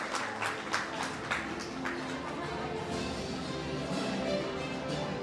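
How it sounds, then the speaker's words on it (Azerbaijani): An audience at a certificate ceremony for Cambridge exams claps, starting with a burst of sharp hand claps that settles into softer, steady applause in an indoor hall. "Alqışlayaq."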